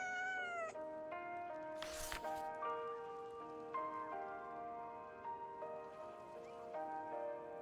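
Cats meowing inside the Wuthering Waves video game, a few drawn-out, pitch-bending calls over a steady layer of game music, with a short soft rain-like burst partway through.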